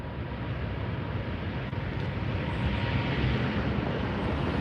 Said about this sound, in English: This is an A350-900 Finnair Flight 2.